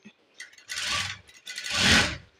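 A sewing machine stitches the side seam of a blouse in two close bursts of whirring mechanical running, each lasting under a second, with a short pause between them.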